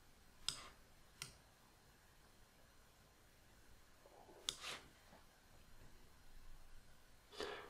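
Computer mouse clicks while editing photos in software, four sharp isolated clicks spaced irregularly against a quiet background hiss.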